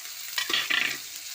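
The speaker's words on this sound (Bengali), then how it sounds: "পেঁয়াজটা লাল লাল করে ভেজে নেবো" Chopped onion hits hot leftover oil in a wok after fish has been fried for a spicy Bengali fish curry, giving two quick close bursts of sizzling and stirring in a short, quiet moment with no talking.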